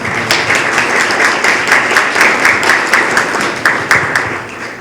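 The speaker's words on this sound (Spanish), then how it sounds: "También démosle un fuerte aplauso, por favor." Steady audience applause at a panel discussion on gender-based violence prevention, many hands clapping close and loud with a few sharper individual claps standing out, no talk over it.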